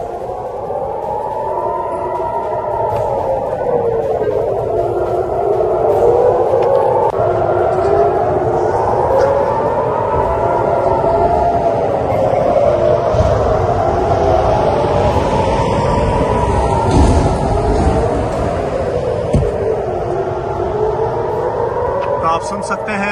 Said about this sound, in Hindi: और सायरन्स लगातार बज रही हैं।